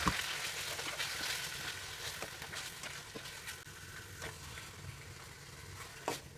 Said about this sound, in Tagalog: igigisa naman natin yung ating chicken liver and gizzard